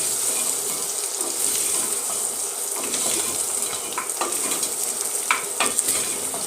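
Food with a grated ingredient just added is stirred and fried in a pan for a Kenyan meal, giving a steady close sizzle broken by repeated scraping stirring strokes, with no talking.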